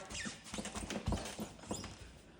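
An old squeaky wooden floor in a house for sale creaks underfoot as someone walks across it, giving a few irregular thumps and short creaks, close and fairly quiet, with no talking.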